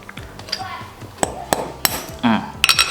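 Metal tapping on metal: several sharp, ringing hammer strikes driving a pin out of a chain at irregular intervals, close up, with faint clinks and background noise between them.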